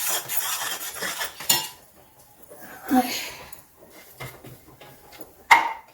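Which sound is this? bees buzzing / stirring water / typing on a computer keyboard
stirring water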